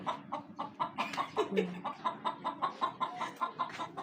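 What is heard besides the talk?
hen clucking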